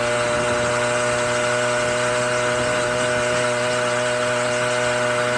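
A 1968 Clark Scamp, a rare British 49cc two-stroke moped, runs at a steady cruising pitch while being ridden, its engine tone even and unstrained with wind noise throughout.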